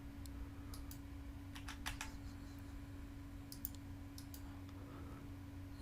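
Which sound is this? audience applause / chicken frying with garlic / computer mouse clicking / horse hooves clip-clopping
computer mouse clicking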